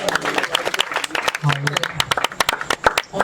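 Applause from a church congregation during a Faisalabad prayer service, sharp hand claps scattered through the whole stretch, with a voice and music tones running underneath.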